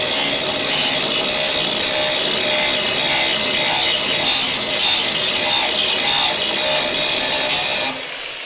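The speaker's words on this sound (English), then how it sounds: "hit it with the grinding wheel" An angle grinder with a grinding wheel works steadily on a car body, a loud continuous abrasive roar close by that holds for about eight seconds before dropping off.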